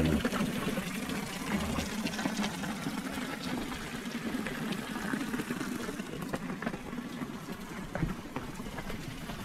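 Spring water runs continuously at an old stone wash house on a nature and heritage walk in the Lot, a steady close rushing and trickling flow with faint voices underneath.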